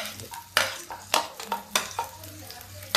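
Garlic goes into hot oil already seasoned with cumin and asafoetida, giving a close sizzle broken by repeated sharp scrapes and clanks of stirring in the pan.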